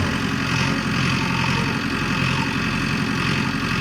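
A tractor engine idles in a toy vehicle cartoon, a constant, fairly loud low rumble that drones evenly throughout without revving or speech.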